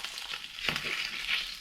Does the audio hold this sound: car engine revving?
no